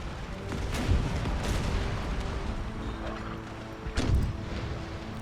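Musket volleys and artillery booms from an Empire: Total War battle between Scottish and Spanish forces, a dense continuous rumble of gunfire with heavier blasts standing out near the start and again toward the end.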